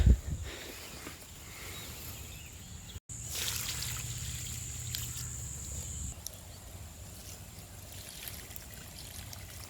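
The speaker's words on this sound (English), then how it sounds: "it's just nice to have that extra bit of water in the creek once again" Water trickles softly and continuously in a small creek, a quiet babbling with faint insect chirps and a brief tone in the background.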